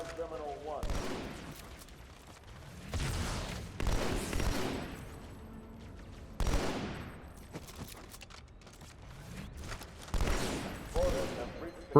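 Gunfire from Elite enemies in the video game Halo 2 Anniversary, Cairo Station mission, coming in several bursts of weapon fire separated by quieter pauses.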